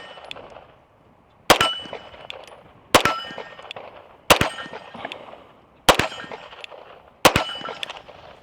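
Staccato P pistol shots ring against a steel target at 15 yards, five sharp cracks each followed by a bright metallic clang, spaced about one and a half seconds apart with ringing decay between.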